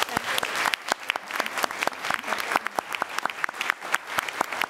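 An audience at a school board meeting applauds, with sharp individual claps clearly standing out against a steady crowd clatter.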